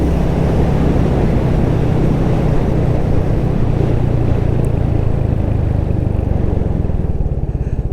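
A Royal Enfield Hunter 350 motorcycle rides along a quiet road, its single-cylinder engine a steady, loud, close drone with wind rush, holding an even pitch throughout before easing slightly near the end.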